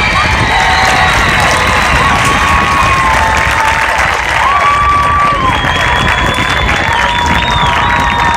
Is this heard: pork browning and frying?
no